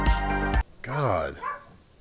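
Dogs bark indoors in a quick close burst, after which a single loud whine-like bark or yelp rises and falls, with no other sound.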